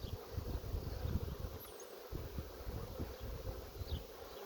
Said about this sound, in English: Sure is nice to work bees during the afternoon on a sunny day